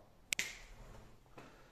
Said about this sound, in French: c'est tellement facile en claquant des doigts